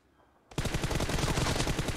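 Automatic gunfire in Battlegrounds Mobile India bursts in after a quiet half-second, a rapid, loud, continuous stream of shots that runs to the end.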